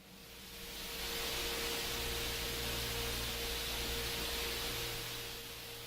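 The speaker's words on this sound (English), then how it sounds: "large amount of hiss is the result of vigorous boiling and churning at the surface of this large red giant star" Broad, even hiss from sonified surface boiling and churning of a large red giant star, swelling in over the first second and then holding steady, with a faint low hum underneath.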